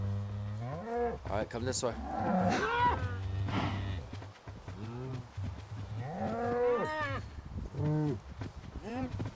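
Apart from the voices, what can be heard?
cows mooing in a farming video game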